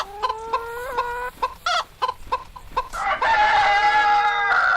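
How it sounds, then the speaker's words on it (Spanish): Chickens being fed on a farm in Castiello de la Marina cluck in short, rapid bursts close by, then break into a louder, sustained chorus of squawking and crowing. "Dar de comer a las gallinas."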